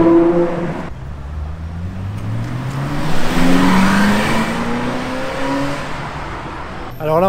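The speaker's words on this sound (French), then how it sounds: "Passage d'un Urus Mansouri un petit peu énervé." Lamborghini Urus Mansory SUV at the Monaco Grand Prix, its engine revving hard as it passes close by, the pitch rising and sweeping over a few seconds amid street crowd noise.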